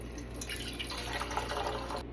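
A close, steady pour of room-temperature water into a bread machine, a soft continuous trickle with faint dripping and no voices.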